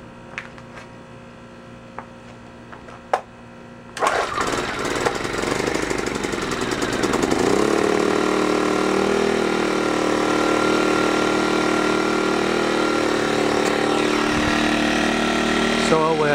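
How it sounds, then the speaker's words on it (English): An Earthquake IG800W 800-watt inverter generator, still warm from earlier running, gives a few faint clicks, then starts abruptly and settles into a loud, steady running hum that continues to the end. "turn the choke on, fuel on, engine switch on, fuel cap to open, and we'll see if it runs"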